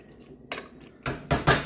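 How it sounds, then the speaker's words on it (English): A metal spoon clinks against a pot while cabbage soup vegetables are stirred together for a low-calorie Polish cabbage soup, a few short clattering knocks near and clear. "we're going to stir all of this in together, making sure all the veggies and everything are all mixed in real well"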